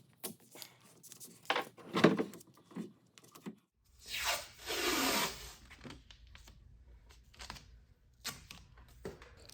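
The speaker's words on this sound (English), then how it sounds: "While those dry, we're gonna sand the repairs." Wood repairs on a mahogany dresser are sanded by hand in short, scratchy strokes, with one longer sustained rub near the middle and brief pauses in between, close and fairly quiet.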